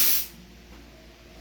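Gas vents from an airsoft pistol magazine in one sharp, loud hiss that cuts off within a quarter second, leaving a quiet room.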